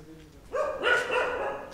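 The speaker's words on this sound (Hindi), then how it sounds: "ये वाला भी भौंक रहा है" A dog in a Dharamshala-area street barks a few times in close succession, fairly near and moderately loud, with faint background noise and no talking.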